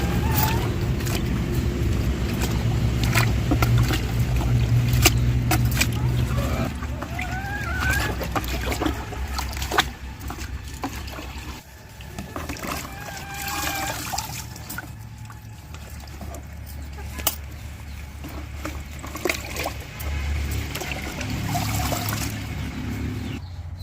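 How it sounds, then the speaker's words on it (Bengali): Potato greens are washed by hand in a bucket of water with continuous splashing, sloshing and trickling, while chickens cluck and a rooster calls in the background of an outdoor setting. "বালতিতে ধুই আজকে"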